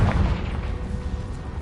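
A Confringo fire spell explosion in the Hogwarts Legacy video game, a short low boom that hits at the start and rumbles through the brief moment, close and fairly loud.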